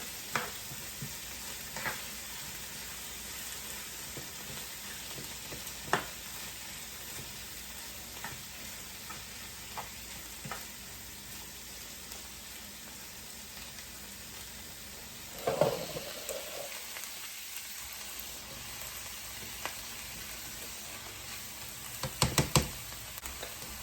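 Frying food sizzles steadily in a pan as homemade turkey chili is cooked, a soft continuous hiss with occasional light knocks and scrapes of a spoon stirring, fairly quiet, with no talking.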